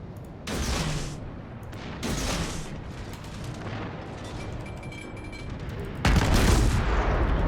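World of Warships naval battle gunfire: deep booming salvos and explosive hits from warship guns burst out at intervals over a continuous rumbling game soundscape, loud and heavy.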